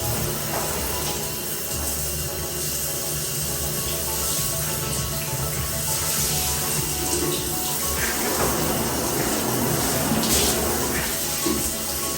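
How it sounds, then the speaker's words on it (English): Water runs and sprays over a bathroom's walls, floor and tub as the cleaning begins, producing a continuous splashing hiss with shifting patter as the spray moves around, close by and fairly loud throughout. "First I wet the walls, the floor and the tub before putting the detergent."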